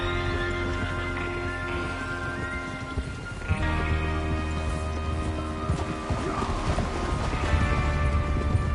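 Horse hooves clip-clop steadily over a dense, constant background of layered game sounds and music in Red Dead Redemption 2.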